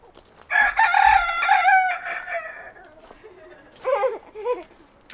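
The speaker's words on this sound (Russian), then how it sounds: "Какой-то бракованный петух. Ну-ка, давай еще разок." A nearby rooster gives a long, strained crow, then a couple of shorter clucking calls; a person speaks briefly in Russian in the background, outdoors in Crimea.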